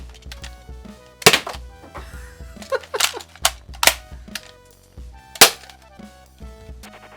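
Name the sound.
Adventure Force Dart Zone Deuce toy revolver firing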